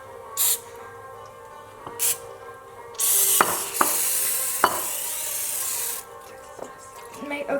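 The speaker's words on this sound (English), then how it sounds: "This is just regular olive oil cooking spray so it doesn't stick." Olive oil cooking spray hisses into a baking pan for cinnamon rolls in a few short bursts, then one long steady spray, close and fairly loud in a quiet kitchen.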